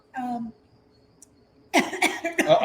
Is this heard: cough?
yes